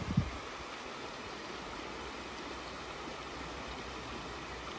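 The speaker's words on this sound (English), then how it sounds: "The river sounds so nice." A river flows steadily along a hiking trail, a continuous broadband rushing wash heard close with a brief knock at the start; no wind chime is distinct.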